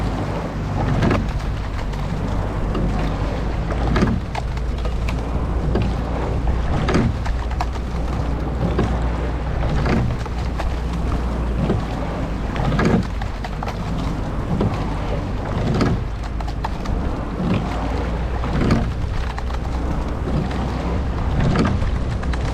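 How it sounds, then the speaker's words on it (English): Oars of a rowing boat enter the water in a steady recurring rhythm, each catch giving a splashy thump over a constant heavy wash of wind and water noise. "If you hear your oar entering the water before everyone else's, think about slowing down in that recovery."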